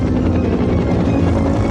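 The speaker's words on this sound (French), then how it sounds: "nous avons besoin de l'aide de ton hélicoptère" Continuous loud rotor thrum and engine whine of a helicopter, steady and close with no pauses.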